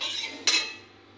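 A metal utensil strikes a hot wok used for dry-roasting semolina, giving one sharp clink over faint scraping that then fades out.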